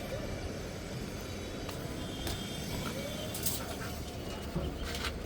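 Pigeons coo softly and intermittently against a steady wash of low background noise, faint and somewhat distant throughout.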